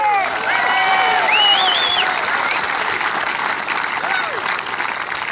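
A crowd at a golf champion's awards ceremony applauds steadily, a dense wash of clapping with some cheering and a few whistles rising over it, loud and sustained throughout.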